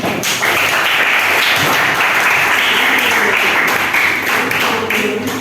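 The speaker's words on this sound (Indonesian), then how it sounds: "Ya, tepuk tangan buat kita semua." A group of students in a classroom session applauds together, steady dense clapping held at a consistent loudness throughout with no break.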